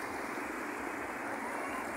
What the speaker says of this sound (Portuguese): E a barragem continua recebendo água, e continua aumentando.